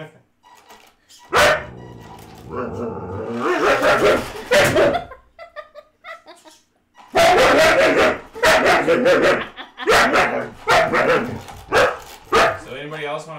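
A pet dog barks and yips excitedly during play, several sharp bursts close by, mixed with people talking and laughing around it.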